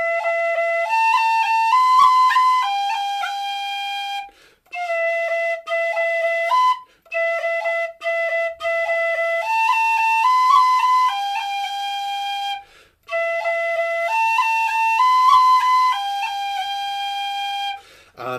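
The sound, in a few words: tin whistle playing four long rolls, Lilting Banshee tune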